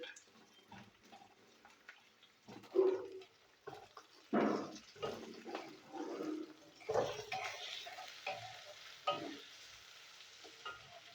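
Potatoes frying in a pan, soft intermittent sizzling and stirring bursts with quiet gaps between them, fairly faint and close.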